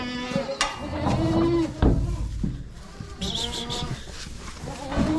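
Goats bleat in short, irregular calls, near and fairly loud, while a voice coaxes them in between.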